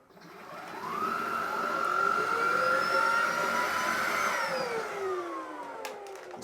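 Electrolux Hygienic 800 bagged vacuum cleaner starting up, its motor whine climbing to a steady, droning pitch, holding for a few seconds, then winding down, heard close and alone.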